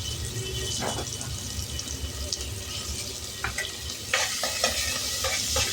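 Crushed garlic and onion with cumin sauté in a pan, a faint sizzle and soft stirring scrapes close by, with louder clattering strokes toward the end.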